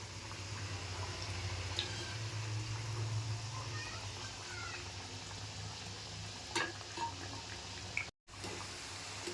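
Sabudana vada shallow-frying in a pan over a medium gas flame, a steady low sizzle with soft crackles, occasional clinks of a utensil turning the vadas near the end, no talking.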